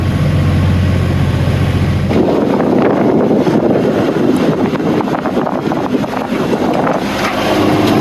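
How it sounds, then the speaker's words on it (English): Strong wind of about 30 knots roars across a sailboat passing through the Strait of Messina. A low engine hum comes first, then loud, sustained gusty buffeting fills the rest. "Meant to be absolutely no wind at all, and there's 30 odd knots."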